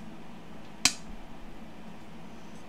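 A single sharp glass clink as a glass pane is handled while taking apart a mosaic frame, a brief close bright tap followed by faint rustling handling noises.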